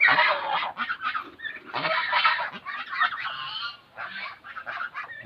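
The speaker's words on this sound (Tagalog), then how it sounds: "Mga nauna kong papisan na gansa, nandito sila." Two-month-old farm geese honk loudly and repeatedly in overlapping, uneven bursts, with no other sound competing.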